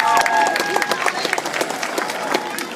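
A crowd cheers and applauds loudly, dense clapping with scattered whoops carrying on steadily throughout.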